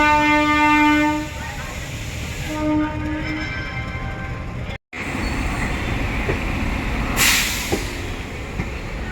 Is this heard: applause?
no